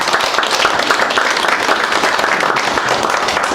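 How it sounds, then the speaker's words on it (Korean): Brisk applause from a gathered crowd welcoming a guest at a campaign office opening for a Gwangjin district candidate, close and dense clapping that rises and stays full for a few seconds. "이 자리를 빛내주시기 위해서 귀한 시간 내주신 광진에 떠오른 태양 김정민 위원장님이 참석해 주셔서 박수 한번 부탁드립니다"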